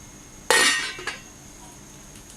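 A lid set onto a vessel holding milk-based caramel pudding mixture being readied for stovetop steaming: one bright clink with a short metallic ring, then a faint second tap, in a quiet kitchen.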